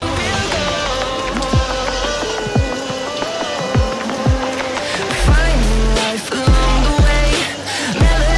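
Heavy rain drums steadily at a crowded roadside bus stop, a dense continuous wash with passing traffic and scattered crowd noise mixed in.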